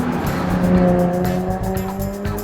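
A Jaguar F-Type Coupe V6 S exhaust growls loudly and steadily up close, the engine note rising and holding as the car pulls hard.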